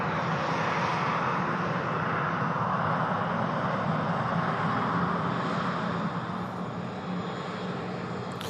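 A fixed-wing airliner arriving after a flight from Faro roars steadily with jet engine noise, loud and sustained throughout without any talk.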